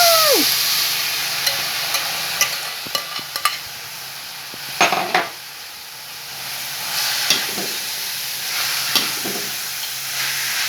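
Pickled bamboo shoots (labong) being stirred as they fry in a pan, with a steady sizzle broken by irregular scraping strokes of the spoon close by, and no one talking.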